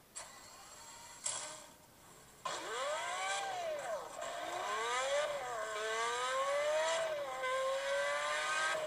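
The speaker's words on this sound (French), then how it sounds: "c'est parce que il y a des sons de voiture" Simulated car engine revving from the Akrapovic app on an iPhone: start-up bursts, then a continuous engine tone sweeping up and down through several rising gear-like revs, steady and fairly loud.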